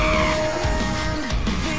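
Tires skid during a drift in a Hyundai Genesis Coupe 3.8 in Gran Turismo 6, a continuous loud screech over engine drone with pitch sweeps, steady throughout.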